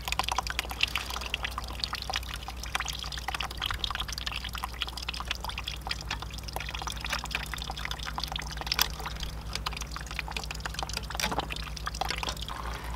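Coolant draining from a 2014 Yamaha R6 sport motorcycle, a steady soft liquid trickle and dribble running continuously at close range against a low background hum, with no talking.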